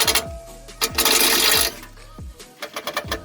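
A ratchet with a 15mm socket works steering stabilizer bolts loose, fast bursts of metallic ratcheting clicks close up, broken by short gaps, a brief louder whirring stretch, and quick knocking taps.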